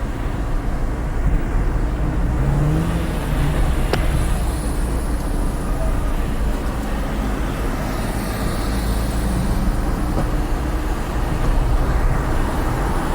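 A bus travelling by road towards Florianopolis in Brazil, heard from inside as a steady loud engine and road rumble with continuous low drone and no talking.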